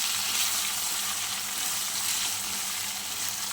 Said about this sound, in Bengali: চলো হালকা ভেজে নিই।